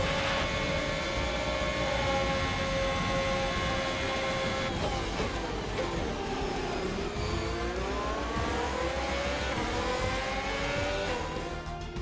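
A Haas race car from the F1 2021 video game drives at the Circuit of the Americas with a loud, continuous high-pitched engine whine, rising and falling through the gears and swooping downward midway.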